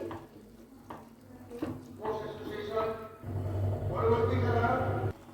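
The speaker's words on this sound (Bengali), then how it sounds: "এবার যে মটরটা আমি সেদ্ধ করে রেখেছিলাম সেটা দিয়ে দিলাম। ভালো করে মিক্সড করে নিচ্ছি।" Chicken keema ghugni with boiled peas being stirred in a pan, with spatula scrapes and a sizzle that swells toward the end, heard close under a speaking voice.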